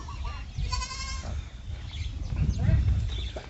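A goat on a goat farm lets out one clear, wavering bleat near the start, close by, amid low farmyard rumble and people talking.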